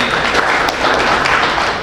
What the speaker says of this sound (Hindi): आप सभी के लिए जोरदार तालियां हो जाए